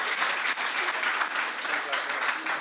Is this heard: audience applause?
yes